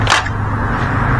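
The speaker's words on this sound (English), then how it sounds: "I'm just gonna pop the seat" A 1984 scooter's seat is popped open, giving one short, sharp latch-release click near the start, followed by quiet background.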